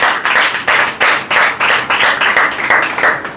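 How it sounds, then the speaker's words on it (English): A classroom of students at a pronunciation and accent training class claps in unison for a student, about a dozen sharp rhythmic claps in a steady beat, close and loud. "Clapping for him."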